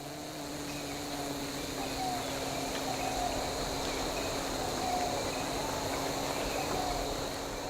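Swarms of killer bees work dozens of huge hives hanging in trees in Assam, making a steady, dense, droning hum that continues without a break.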